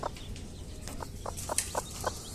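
Hen on a farm where a clutch of eggs has just hatched, giving short repeated clucks in a steady run, fairly close, over low background noise, no talking.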